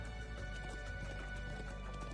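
Horse hooves gallop in the video game Trails of Cold Steel 2. A quick, continuous clip-clop patter sits low under steady game music and ambience, with no speech.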